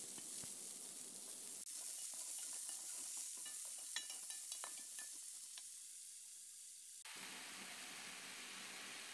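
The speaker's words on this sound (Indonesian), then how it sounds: "Lepas tu boleh masukkan labu air kita yang dah dipotong tadi." Cut bottle gourd stir-fried in a hot pan, a steady sizzle with scraping stir strokes clustering through the middle, then the frying hiss swelling louder near the end; no voices.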